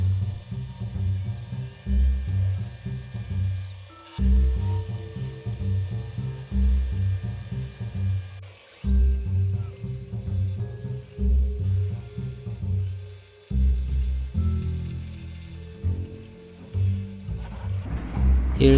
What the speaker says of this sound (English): here is how to make a buckle using a milling machine